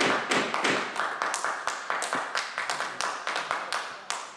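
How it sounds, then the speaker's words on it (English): A single audience member claps steadily through a county board of supervisors meeting, with sharp, close, evenly spaced hand claps repeating about every third of a second and nothing else heard. "your clapping is interrupting and disrupting the conduct of the meeting."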